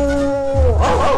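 A single voice mimics a dog, a drawn-out tonal bark sliding into a short yowl, loud and close.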